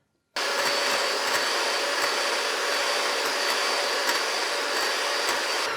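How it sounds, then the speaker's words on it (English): An electric mixer beating egg yolks until pale for a keto chocolate Swiss roll, switching on abruptly and then whirring loudly and steadily with faint periodic clicks of the beaters against the bowl, no talking. "you're going to beat the egg yolks until they're a light pale color"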